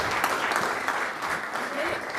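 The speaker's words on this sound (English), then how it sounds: "Please give her a warm round of applause." An audience applauds warmly at a chess event, a steady wash of clapping lasting a couple of seconds with no distinct voices on top.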